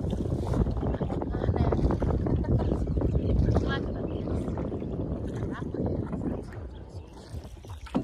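A small wooden boat is rowed on a river in a Bangladeshi village, with water sloshing and wind buffeting close by in a continuous churning wash.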